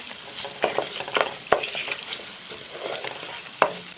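Sliced green chillies and thickly cut onions sizzle and crackle while frying in a pan for a Telugu pumpkin pulusu, with a few sharp stirring knocks against the pan over a steady frying hiss.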